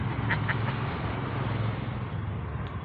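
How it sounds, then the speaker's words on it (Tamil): A few ducks quack in short nasal bursts near the start, then fade under a steady outdoor rumble, with no speech over them. "வாத்து பாருங்க வாத்து பாருங்க வாத்து பாருங்க"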